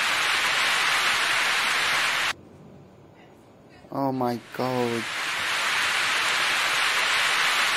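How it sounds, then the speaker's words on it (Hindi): Heavy rain and strong wind lashing the road during a journey make a loud, steady roar that cuts out briefly, then returns around a short startled exclamation. "बहुत जोर की बारिश आ गई रास्ते में, इतनी जोर की हवा चल रही है"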